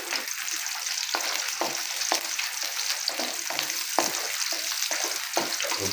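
Shallots and large red chilies sauté in a pan with steady close sizzling and frying, broken by repeated stirring scrapes at an irregular rhythm.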